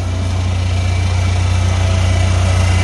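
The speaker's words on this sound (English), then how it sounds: "as the bowl fills up, the tractor runs." A tractor engine running on a refilled in-line fuel filter idles in a steady, close, loud drone with a deep low thrum and even vibration throughout.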